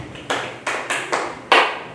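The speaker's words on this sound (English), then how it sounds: "Let's clap for him." A few children in a classroom clap in short bursts, four or five separated bursts spread over two seconds, fairly close and without talk.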